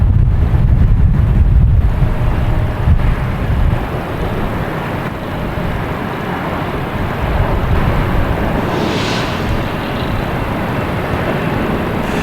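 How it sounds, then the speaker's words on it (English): An American Airlines airliner taking off at Boston Logan, bound for Philadelphia, gives a broad roar that is loudest at first, then eases into a steady distant rumble, with wind noise on the microphone. "I have an American airline taking off, heading to, I assume, Philadelphia"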